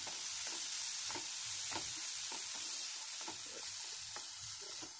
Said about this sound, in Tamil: ஸோ எண்ணெயில் கொஞ்சம் காயெல்லாம் நல்லா வதங்க விடுங்க.